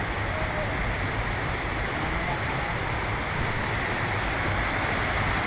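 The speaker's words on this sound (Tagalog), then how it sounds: "Ayun yung waterfalls." A waterfall in Real, Quezon rushes in a steady, dense roar that fills the whole clip without pause, broad and constant like heavy falling water heard from nearby.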